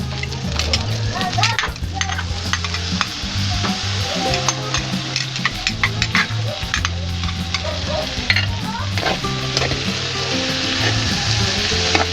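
Pork humba sizzles and crackles steadily in a pan with black beans, loud and continuous with frequent sharp pops and stirring clatter throughout, no talking.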